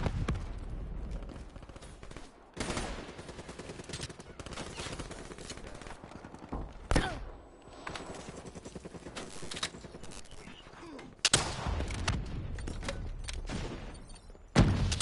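Multiplayer gunfire in Black Ops 3, with repeated bursts of automatic fire and sharp single shots breaking out in clusters across the clip, some heavy thuds among them, loud and close with a player's voice briefly audible.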